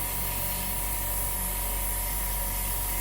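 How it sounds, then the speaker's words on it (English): An airbrush sprays paint onto a pad, giving a continuous, steady airy hiss close by with no break for the whole three seconds. "Spray this out onto my pad"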